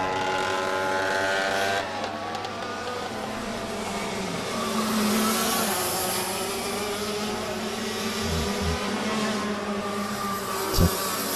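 A racing kart engine that has lost its exhaust drones loudly and steadily through a kart race at the Rok Cup Nationals, with a harsh, raspy tone and other engines around it.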